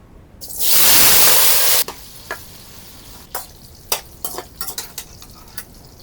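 Chicken hits hot oil in a pan in an outdoor dirty kitchen, a loud burst of sizzling for about a second and a half, then a quieter simmer broken by scattered clinks and scrapes of a utensil against the pan.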